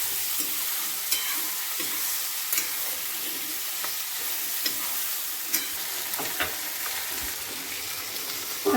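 Lentils added to hot oil in a pan sizzle in a continuous bright frying hiss, broken by occasional sharp clicks and stirring taps, with no voices.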